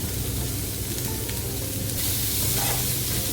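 Onions sautéing in a pan for a snake gourd stir-fry, giving a steady, close sizzle over a low rumbling hum throughout, with no speech.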